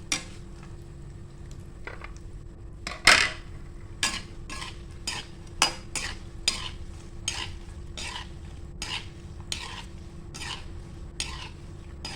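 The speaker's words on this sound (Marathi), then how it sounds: "इथे आपण खोबरं तळून घेतो." Coconut frying in oil for thin poha chivda, stirred with a spatula: a low sizzle under a regular series of about a dozen sharp scraping strokes against the pan, close, no talking.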